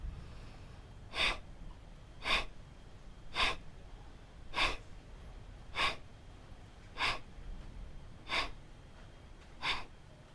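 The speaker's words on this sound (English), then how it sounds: "The inhale is automatic and I'm breathing only through my nostrils, not through my mouth." Kapalbhati breathing: nine sharp, forceful exhales through the nostrils come at an even pace about every 1.2 seconds, close and clear, with quiet passive inhales between them.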